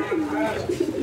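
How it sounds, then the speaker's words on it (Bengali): An American Soldier pigeon in a show cage gives a short, close, low cooing call with a warbling rise and fall. "আমেরিকান সোলজার কবুতর, হ্যাঁ জি, সোলজার পিজিয়ন।"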